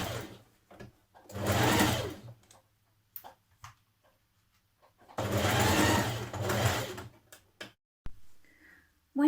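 A sewing machine stitches a dress neck facing in two bursts of rapid mechanical whirring, each a couple of seconds long, separated by quiet pauses with small clicks and handling sounds.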